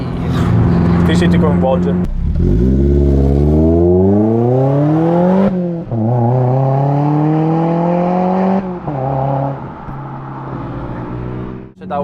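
A mid-engined Lotus Elise 240 Sport Final Edition climbs through its revs in repeated rising pulls between gearshifts, its exhaust loud and close, while someone talks excitedly over it.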